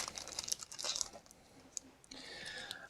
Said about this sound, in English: You take a razor blade and just cut a little bit around the edge.